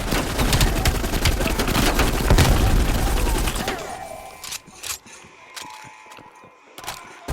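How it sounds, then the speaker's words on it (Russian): A grenade goes off in Call of Duty: Black Ops Cold War within a dense burst of gunfire and explosive rumble, then fades into sparse clicks, mechanical rattles and scattered distant shots. "Граната."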